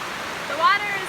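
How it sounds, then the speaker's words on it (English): Water pours steadily at Native American Falls, a continuous broad rush of falling water heard close, with a brief voice-like tone rising over it partway through. "Waterfall."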